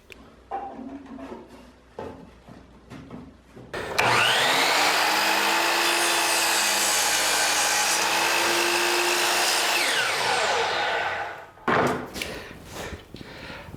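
A power saw with its small supplied dust bag cuts through wood: the motor spins up with a sharp onset, holds a loud, steady whine for about seven seconds close by, then winds down, with handling knocks before and after.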